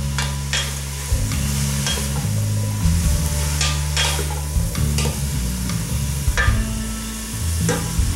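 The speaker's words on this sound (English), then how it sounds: "Give that a little bit of a stir." Leeks with chives, thyme and fresh garlic sauté in a pot over medium heat, a continuous close sizzle overlaid with several scraping spoon strokes as the mix is stirred, no voices.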